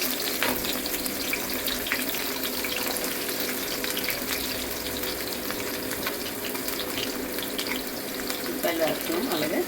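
Sliced onions frying in a pan of hot oil for a South Indian fish curry with methi leaves, giving a steady broad sizzle that runs unbroken throughout with small crackles, with no talk over it.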